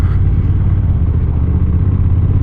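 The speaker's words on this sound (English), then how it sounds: "As far as the engine goes, it's a parallel twin" A Honda NT1100 DCT motorcycle's parallel-twin engine gives a loud, steady, deep rumble close up. It holds an even, unbroken drone throughout, with no talking.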